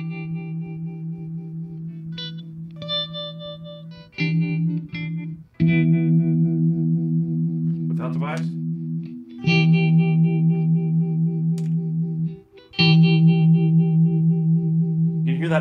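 Electric guitar through a Two Rock Joey Landreth amp playing sustained chords with a pulsing rhythmic modulation effect, several chord changes and ringing notes, played alone without voices.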